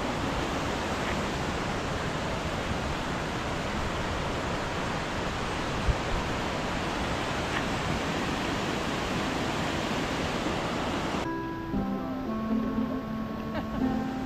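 Aliwagwag Falls in Davao Oriental thunders as a constant broadband roar of rushing water, loud and close, with a brief voice or tonal sound near the end.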